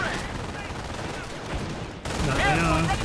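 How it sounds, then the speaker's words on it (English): Gunfire from a sniper in the World War II strategy game Company of Heroes, Carentan mission, sounding as steady battle noise with shots and rumble, growing louder and denser in the final second over continuous combat din. "Is my sniper taking shots still?"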